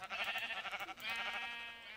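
Sheep in a modded video game bleat loudly and up close, a fast wavering stutter of bleats followed by a long sustained quavering cry, with no talk over them.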